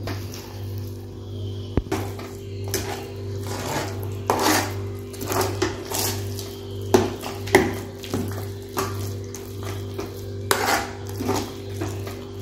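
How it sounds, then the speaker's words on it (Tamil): Kalkandu pongal stirred in a pot with a ladle, giving repeated scraping and clinking against the metal under a steady low hum, with a few sharper knocks. "அது வரைக்கும் நல்லா கிண்டி விடுவோம்."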